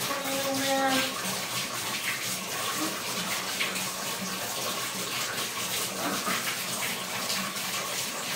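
Water runs steadily from a bathroom tap, a constant rushing splash at close range that holds even throughout, with a brief tonal hum at the start and no talking.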